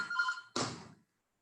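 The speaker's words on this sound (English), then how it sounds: "my phone is ringing" A mobile phone rings in a lecture hall, a brief tonal ring followed by a short burst, heard alone with no talk over it.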